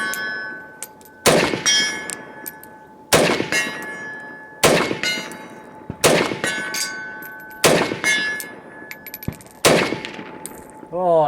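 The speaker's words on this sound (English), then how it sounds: "take a couple of shots at 100 yards with this guy" Semi-automatic Russian rifle chambered in 7.62x39 fired outdoors at a 100-yard target, six loud sharp shots spaced roughly one to two seconds apart, each with a ringing metallic echo and decay, the last one followed by a brief high warble.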